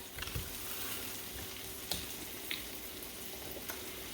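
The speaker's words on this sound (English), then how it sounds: "Now, we're going to add some beef broth." Beef broth poured into a hot skillet over onions and Salisbury steak patties, giving a steady low sizzle and bubbling throughout with a few faint clicks and pops, no talking.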